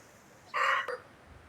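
A nearby rooster lets out one short, loud crowing call that lasts about half a second and stands alone over quiet background.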